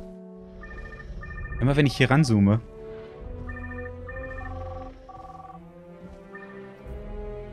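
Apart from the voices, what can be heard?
telephone ringing from dinosaur in video game Jurassic World Evolution 2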